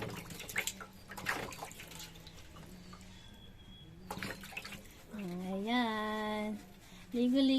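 Water splashes and pours during a pet dog's bath, intermittent gushes and drips, with a tonal whine or voice rising partway through and other sounds layered over the water.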